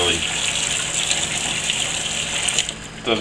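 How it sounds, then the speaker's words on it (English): Kitchen tap water running steadily as a utensil is rinsed at the sink, a loud continuous close splash and gush that fills the whole moment without pause, with no talking over it. "Let me give this a quick rinse here."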